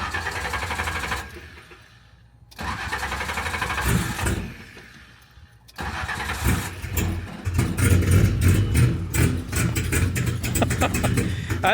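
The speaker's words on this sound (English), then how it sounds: "Start her up and you tell me what you think." A tuned car's engine cranks and fires with a loud, rough, uneven idle that stumbles and surges, breaking off twice before catching and running choppily near the microphone, with brief voices between the attempts.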